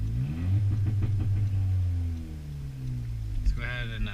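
A 10th-generation Honda Civic Si with a catless downpipe holds a two-step launch, its engine droning in a steady low rumble with popping pulses, then easing off before a brief sharper burst near the end.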